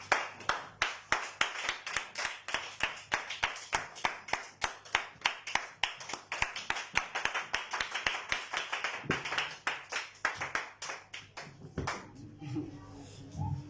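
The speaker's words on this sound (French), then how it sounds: "On acclame le Seigneur Jésus." A church congregation claps in quick, steady rhythm through a worship service, many hands close and loud, with voices mingling underneath before the clapping fades near the end.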